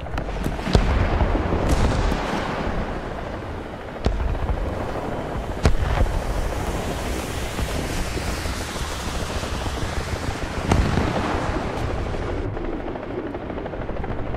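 Incoming gunfire strikes the player during a World War II-era combat game, sharp cracks and impacts standing out against a dense, constant roar of engines and battle noise that fills the whole stretch.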